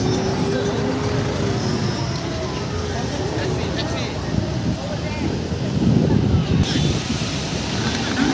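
Ocean surf washes in steadily at Tawaen Beach on Coral Island off Pattaya, with gusty wind buffeting the microphone into a low rumble and a swell of louder waves near the end; faint voices drift in the background.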